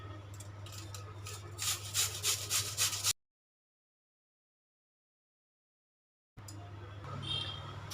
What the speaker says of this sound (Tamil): இந்த உருளைக்கிழங்கை நம்ம துருவி எடுத்துக்கலாம்.